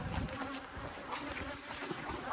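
Small bees pour out of a hive entrance in Texas, a dense, close buzzing swarm that hums continuously without a break.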